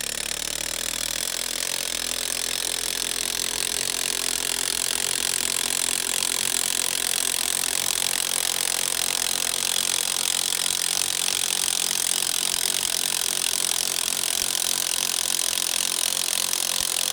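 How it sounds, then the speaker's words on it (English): Loud, continuous power-tool whine of a 1/2-inch impact wrench spinning lug nuts off a Polaris RZR Pro XP wheel, close and steady for the whole stretch with no talking. "Now I have an impact, so I'm going to start here, taking the lug nuts off."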